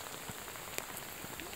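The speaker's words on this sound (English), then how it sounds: "it was raining a little bit, but now it's decided to pour down" Heavy rain pours steadily at a campsite, a dense, even patter of drops hitting surfaces close by with a few sharper splashes, no voices.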